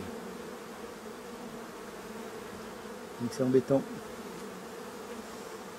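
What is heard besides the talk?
honeybees buzzing around hive frames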